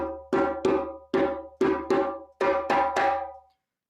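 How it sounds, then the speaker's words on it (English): A hand drum rhythm mixing slap, tone and bass strokes from the saraya kassa rhythm, about nine sharp close strikes in uneven groups, played alone and ringing with resonant low body. "the whole rhythm so far, up until that bass, sounds like this. Have a listen."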